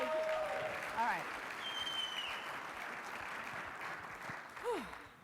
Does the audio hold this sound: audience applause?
yes